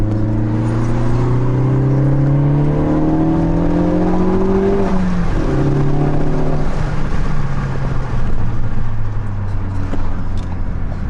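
A Ford Focus ST engine with a high-flow air filter drones and climbs in pitch as it accelerates, with a steady induction hum and road noise, briefly dipping at a shift before rising again.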